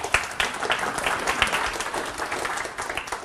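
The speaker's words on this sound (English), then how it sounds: "Give a nice little round of applause." A seminar audience breaks into a warm round of applause, a dense wash of many clapping hands at steady volume with a few sharper claps poking through, and no talking over it.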